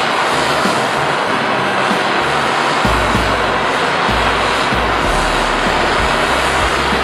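A propane torch roars steadily while heating steel and stainless stock for brazing with flux-coated silver solder, a loud, continuous close-up hiss and rumble with no talk.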